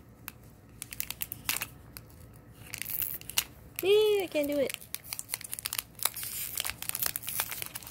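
A Magic the Gathering Phyrexia booster pack's foil wrapper crinkles and rips in short bursts, close up, while a person speaks briefly.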